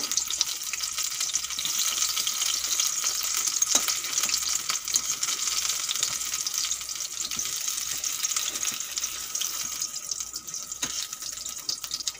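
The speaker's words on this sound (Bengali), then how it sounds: "দেখুন বন্ধুরা, বেগুনগুলো ভাজা হয়ে গেছে।" Eggplant slices coated in masala sizzle as they fry in a pan, a steady bright hiss with occasional crackles, close and continuous and no one talking.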